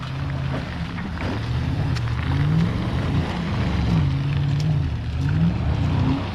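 An off-road vehicle in low gear pushes through mud flats, its engine droning low and steady with rising and falling revs and wind noise, close and without talk.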